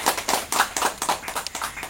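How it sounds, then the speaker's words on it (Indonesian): Applause from a small audience at a Bawaslu election talk show, a quick burst of irregular hand clapping lasting a couple of seconds, fairly close and without speech. "Kasih tepuk tangan lagi."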